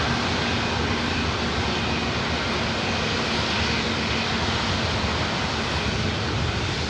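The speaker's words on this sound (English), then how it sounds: "It's a 737 at MAX 8." A Southwest Airlines Boeing 737 MAX 8 roars on the runway at LAX, a loud, steady, broadband jet engine rumble and hiss that holds throughout with no voices.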